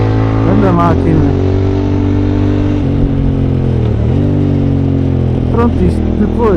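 A QJ SRT 600SX motorcycle engine revs up and down close by on the road, rising and falling in pitch with a steady growl throughout.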